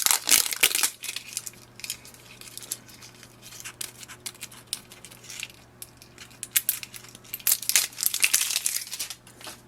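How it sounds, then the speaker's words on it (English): Plastic sealing on Canon TR7620 ink cartridges being pulled and torn off by hand, giving close, bursty crinkling and crackling that comes and goes in clusters over a steady low hum, with no talking. "Now we have to take the ink cartridges out of the sealing, as you can see. So you just have to pull it and just tear it off."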